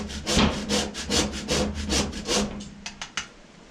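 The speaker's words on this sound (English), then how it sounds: "This is chalk, and I'm actually going to grate it with a cheese grater." A cheese grater rasping across a stick of soft chalk, with about ten rhythmic scraping strokes up close, followed by a few light taps.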